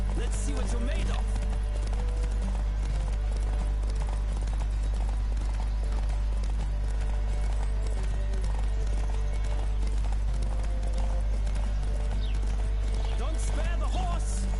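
Horses galloping in a race in The Witcher 3: rapid, continuous clip-clop of hooves with occasional whinnies, loud and close, under steady low background music and game voices.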